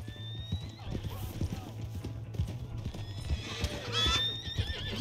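In Red Dead Redemption 2, a horse's hooves clip-clop in an irregular rhythm and it lets out a high whinny near the end, while people talk over the moderately quiet scene.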